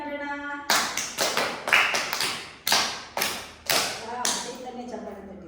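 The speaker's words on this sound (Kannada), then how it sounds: "ಚಪ್ಪಾಳೆ ತಟ್ಟಿದ್ರಿ, ವೆರಿ ಗುಡ್" First-grade schoolchildren in a classroom clap in a burst of sharp, uneven, loud claps and slaps that come in separate ringing bursts, with an adult voice speaking briefly before and after.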